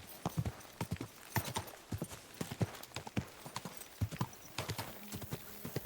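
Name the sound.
horse hooves and whinny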